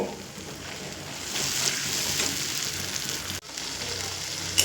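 Ground spice paste with a little water frying in a pan, a close steady sizzle and bubbling that swells briefly, drops for a moment, then resumes.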